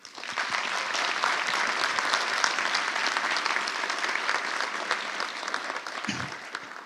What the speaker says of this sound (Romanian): Vă rog să-i aplaudăm.